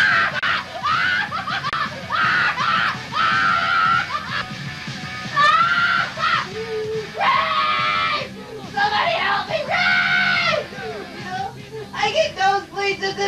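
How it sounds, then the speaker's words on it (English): A woman's screams and shrieks ring out in a witch horror film, in several loud bursts over about thirteen seconds, mixed with whimpers and snickering laughter. "Did I just hear somebody yell"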